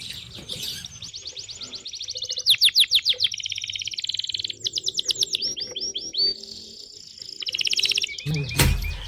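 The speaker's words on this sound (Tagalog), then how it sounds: "Ang ingay ng mga ibon." Birds chirp and trill in quick repeated bursts around a hillside villa in Antipolo, their calls layered and fairly close, with a sharp knock or thump near the end.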